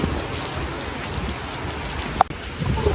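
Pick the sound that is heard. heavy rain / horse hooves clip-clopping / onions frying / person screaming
heavy rain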